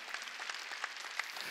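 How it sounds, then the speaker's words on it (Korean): A congregation applauding during a Wednesday church service, a steady, fairly faint patter of many hands clapping at once with a few sharper claps standing out. "박수로 하나님께 영광을"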